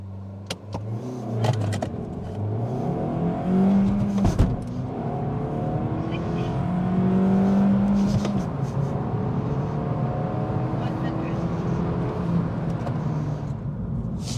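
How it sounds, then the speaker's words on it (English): Suzuki Swift Sport Hybrid 1.4 Booster-Jet accelerating hard from a standstill to 60 mph, heard from inside the cabin: the engine revs climb through several gear changes in a steady rising drone, loud and continuous with no talking. "let's test the 0 to 60."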